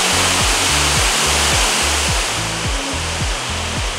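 A waterfall about an hour's drive from a converted 727 airplane hotel, pouring with a loud, steady, broadband roar, overlaid with a repeating low, tonal pulsing sound.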